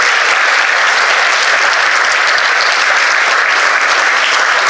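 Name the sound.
audience applause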